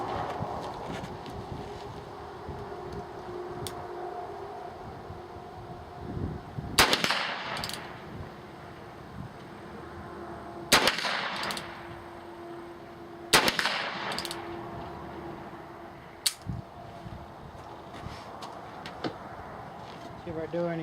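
A rimfire rifle firing .22 long rifle rounds at a target 25 to 30 meters away: four sharp, loud reports several seconds apart, with quieter wind and handling noise between shots.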